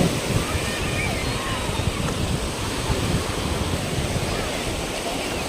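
Sea waves wash in a steady, close surge at Patong beach in Phuket, mixed with wind buffeting the microphone, as someone talks over the constant roar.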